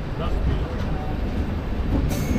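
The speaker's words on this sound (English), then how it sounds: "so we finally depart from Umrah, are on the final leg of this journey for both the train and us" Inside the Asarva–Udaipur 19704 Intercity Express as it departs Umra station, a steady loud rumble of wheels and carriage runs under faint background voices.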